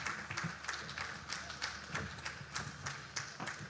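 Sparse, modest applause from a small crowd, individual claps landing in an uneven rhythm, fairly quiet and distant.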